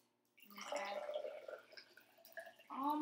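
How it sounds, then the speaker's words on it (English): Water is poured into a container, making a close, gurgling splash that shifts as it fills, and a voice starts near the end. "But if we add water, let's see what happens."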